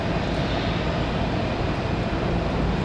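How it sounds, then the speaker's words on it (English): Steady, continuous jet engine roar from a Delta Airbus A220-100 airliner on the move at Raleigh-Durham International Airport on a windy day, loud and unbroken throughout with no voices. "Sounds like we got that Delta A220-100"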